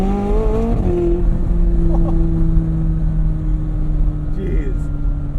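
A 2020 McLaren 600LT Spider supercar's engine drones steadily and loudly while driven with the top down, a sustained tonal note over rushing wind noise that shifts pitch briefly near the start.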